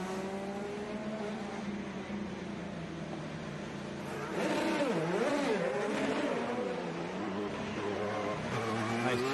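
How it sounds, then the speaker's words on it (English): IndyCar race car engine refiring via its hybrid system on a street circuit, engine tone rising and wavering through revs in the distance, under continuous background commentary. "he was able to either keep it running or refire the car with the hybrid system"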